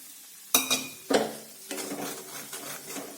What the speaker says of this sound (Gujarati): ઘી આપણું ગરમ થઈ ગયું છે। તો અત્યારે મેં 4 મોટી ચમચી જેટલો ઘઉંનો કરકરો લોટ લીધો છે, તે આપણે આ ઘીની અંદર એડ કરીશું।